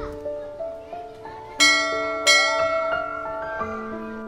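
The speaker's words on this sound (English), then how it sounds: "that monster school bell ringing away" A large school bell rings out in a series of bright, ringing strikes that overlap and decay, fairly loud, with faint voices in the background.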